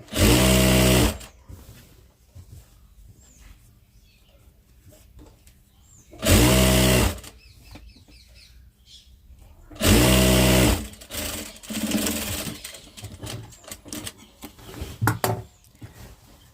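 A sewing machine stitches the edge of a saree petticoat in three loud bursts of about a second each, separated by quieter pauses filled with handling sounds.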